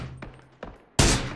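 Gunfire in PUBG from enemies on a hill, a couple of faint distant shots followed by one loud, close crack with a ringing tail.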